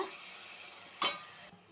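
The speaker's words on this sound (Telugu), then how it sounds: "ఈ ఆయిల్లోని మనం మిక్సీ ఆడిన పేస్ట్ అనేది కొంచెం వేయించుకోవాలి" Ground spice paste for brinjal curry fries in hot oil with a steady close sizzle and one brief sharper hiss of stirring near the middle, fading out at the end.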